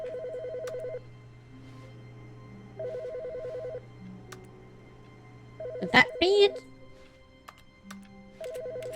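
A telephone rings in The Stanley Parable video game, repeating electronic ring bursts in a steady on-off pattern, while a person speaks briefly over it partway through.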